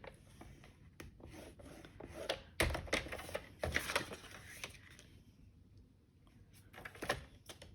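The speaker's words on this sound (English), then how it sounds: "I'm just moving my trimmer." A paper trimmer is slid and shifted across a craft desk, giving soft scraping, rasping rubs in short bursts with small clicks, a few louder strokes in the middle, quiet overall.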